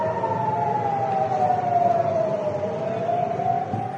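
A loud air-raid siren near Tel Aviv wails with a slow, sweeping pitch, holding steady for several seconds, blaring continuously over a low rumble.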